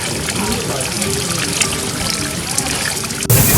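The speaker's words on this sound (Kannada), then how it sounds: "ನೀವು ಇಲ್ಲಿ ಒಂದು ಸಣ್ಣ ವಾಟರ್ಫಾಲ್ ನೋಡ್ತಿರ್ಬೋದು" Hot water from a hot spring trickles down a small waterfall among boulders, a steady close splashing wash that runs throughout.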